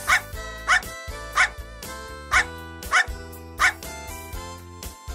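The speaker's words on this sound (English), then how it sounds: "The dog barks." A dog barks in a steady series of about six sharp, evenly spaced barks over continuous light instrumental music, each bark short and close.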